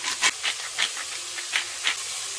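Onions hiss and sizzle in oil in a sauce pot, a steady close fry with soft pops and crackles rising every fraction of a second.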